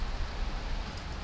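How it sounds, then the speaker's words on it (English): Steady rain falls outside, a dense, even hiss of drops on surfaces filling the whole moment at a constant, moderate level with no voices. "It's raining."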